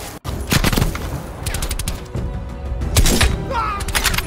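Rapid automatic gunfire bursts and thumping shots from the Call of Duty Black Ops Cold War campaign crackle almost continuously, loud and close, with repeated volleys and brief gaps between them.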